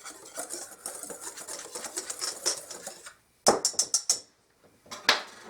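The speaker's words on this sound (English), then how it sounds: "Now I'm going to give that a nice whisk." Gravy mix being whisked by hand, a rapid, steady clatter of wires against the bowl for about three seconds, then a few separate sharp scraping strokes after a brief pause, close and fairly loud with no talking.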